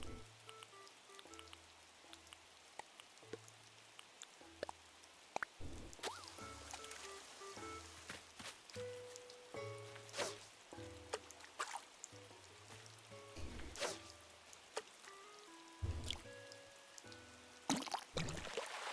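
Rain pattering in the game Animal Crossing New Horizons, a steady soft patter laid under a plinking game melody and occasional sharp clicks, with no one talking.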